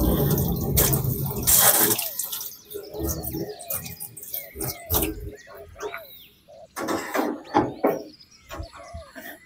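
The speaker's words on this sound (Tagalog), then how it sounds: "Didiligan natin yung bagong tanim natin." Water splashes and trickles over newly planted flowers in a small garden, coming in uneven bursts up close, while birds chirp in the background.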